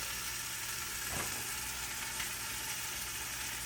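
Bone-in chicken frying in a cooking pot, a steady dense sizzle holding at one level throughout, with a faint soft clink near the middle.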